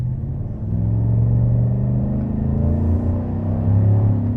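A 2024 Chevrolet Silverado 1500 pickup accelerates hard in sport mode, its engine opening into a deep, loud rumbling drone after a brief quieter start, the pitch holding low and strong and swelling again near the end.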